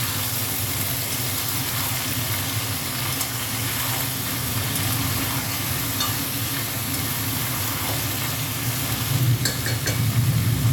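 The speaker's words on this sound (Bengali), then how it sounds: "পাঁচফোড়ন দিয়ে আর সবজিগুলো দিয়ে দিয়েছি। সবজিটা একটু ভেজে দেবো।" Mixed vegetables with panch phoron fry in a pan for a chochori, giving a continuous even sizzle with occasional stirring scrapes, close and moderately loud, with no voices.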